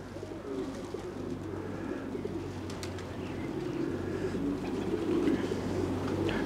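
Racing pigeons returning from a competition flight coo in a steady low murmur, with soft flutters and shuffling from a flock of about 78 settling nearby, growing slightly louder toward the end.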